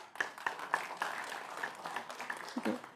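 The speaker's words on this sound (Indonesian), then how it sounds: "Boleh tepuk tangan ya?" Scattered audience applause at a 2020 Cilegon mayoral and deputy mayoral candidates' debate, a few sparse claps in a hall at moderate distance, mixed with murmuring and a voice speaking.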